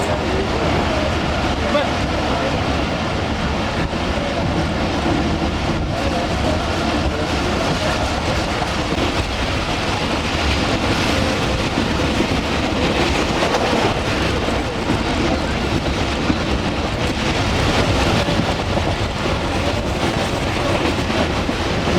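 The Musa Pak Express railcar pulls out of Multan with a loud, continuous rumble and rattle of wheels and carriage, and voices are audible beneath the noise.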